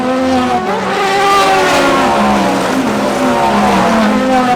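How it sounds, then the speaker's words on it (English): A loud, high-revving Aston Martin Valkyrie V12 roars steadily past on a track, its harmonic whine rising and falling as it circles, with no voices. "listening to the Valkyrie and its V12 go around and around and around"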